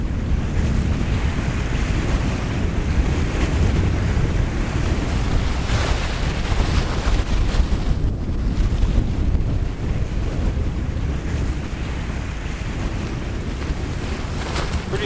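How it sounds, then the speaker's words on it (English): Strong wind roars continuously outdoors beside a lake during a late-fall wilderness canoe trip, buffeting the microphone with heavy rushing noise that blends with the wash of waves, loud and unbroken. "Pretty strong wind back here,"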